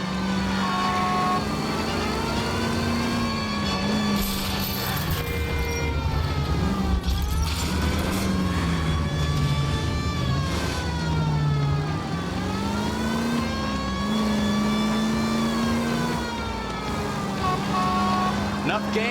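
A stolen green Kaiser Fraser engine pushes hard through a police chase in L.A. Noire, a steady revving drone that rises and falls over a wailing siren for the whole stretch.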